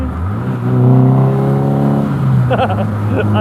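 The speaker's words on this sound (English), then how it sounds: "You get the stainless steel silencer with the build, which gives you a" A Mazda MX-5 NB-based MK RX5 kit car with a stainless steel silencer idles and then revs, giving a steady, fairly loud engine note.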